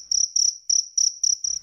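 A cricket hidden among the stones fencing a grave chirps loudly and alone, six evenly spaced bursts of shrill trilling in under two seconds.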